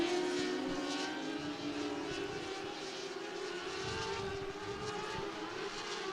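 Dwarf race cars circle the Cottage Grove Speedway dirt oval during a heat race, their engines blending into a continuous droning roar that stays steady and fairly distant.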